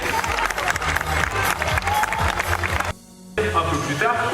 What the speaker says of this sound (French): Je vous demande d'applaudir bien fort Nola et Vénus.